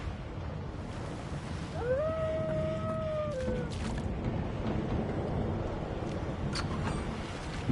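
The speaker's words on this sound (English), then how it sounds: "The dog whines and continues." A dog whines in the video game Divinity: Original Sin 2, a single drawn-out, rising then falling whimper heard clearly over a low, steady rumbling ambience.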